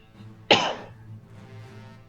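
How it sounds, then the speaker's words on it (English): One sharp, close cough bursts out and quickly fades, standing alone over a faint low background hum. "Excuse me for cough"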